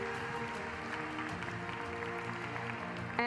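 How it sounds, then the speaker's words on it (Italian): Audience applause for the winner at a Pokémon VGC video game championship in New Orleans, a steady, even wash of clapping and crowd noise that stays level throughout over a music bed. "And finally a big round of applause for your video game Masters champion, Patrick Connor!"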